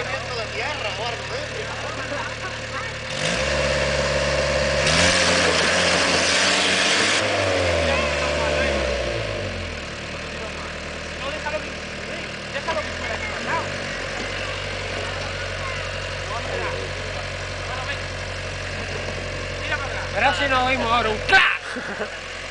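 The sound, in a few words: Land Rover Santana 88 engine running off-road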